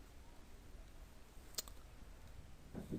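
A single faint mouse click on a computer as MS Excel is opened, one brief tick in a quiet room with soft handling noise just after.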